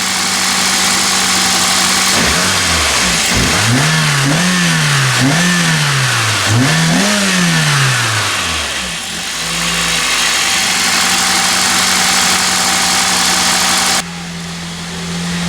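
A car engine with its factory exhaust is revved several times in quick succession, rising and falling in distinct pulses. It then settles back to a steady, close idle with no talking.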